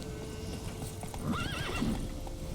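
A horse in the Witcher 3 video game clip-clops at a steady gallop and lets out a clear whinny midway, with a dull ambient bed behind it.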